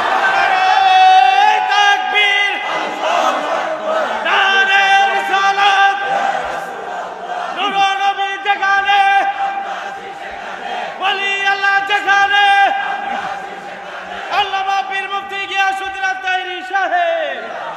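A crowd at a religious Islamic preaching gathering chants slogans in loud, rhythmic unison. Bursts of massed voices rise and fall in repeated phrases, with short pauses between rounds.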